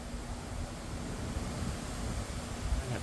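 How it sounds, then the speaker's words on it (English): Strong wind blows on a windy day outdoors, a steady, loud rushing rumble buffeting the microphone throughout, with no other sounds standing out. "It's a very windy day today."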